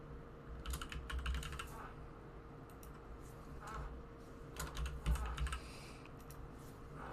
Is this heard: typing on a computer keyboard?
yes